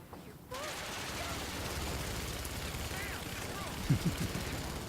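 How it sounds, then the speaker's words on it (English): Soldiers open fire in the Rise of the Tomb Raider video game, a steady wash of gunfire under game music that starts abruptly after a brief quiet moment, with a few louder bursts. "They weren't supposed to shoot at us!"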